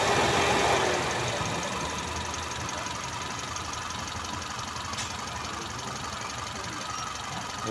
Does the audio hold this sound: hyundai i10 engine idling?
yes